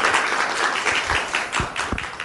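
A lecture audience gives a university physics professor a warm round of applause: dense, continuous clapping from many hands, fairly close and steady throughout, with no talk over it.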